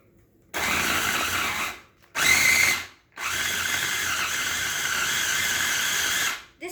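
An electric food chopper blending guacamole ingredients, whirring loudly and close in three bursts: a long run, a short pulse, then another long steady run, with silent gaps between them.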